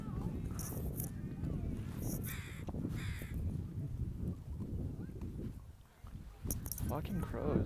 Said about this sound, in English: fucking crows, they're just everywhere.